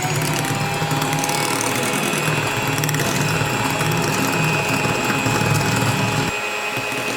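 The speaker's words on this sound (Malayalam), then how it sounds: "ഇനി നമുക്ക് വാനില എസൻസ് ചേർത്തിട്ട് ഒന്ന് ബീറ്റ് ചെയ്തെടുക്കാം." Electric mixer beating chocolate sponge cake batter with vanilla essence added, a steady loud whirring drone running continuously and dropping slightly near the end.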